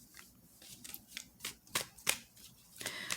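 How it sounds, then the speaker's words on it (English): A tarot card deck being shuffled by hand: a run of crisp papery riffles and slaps in uneven bursts, close and fairly quiet, with no talking. "So as I'm shuffling,"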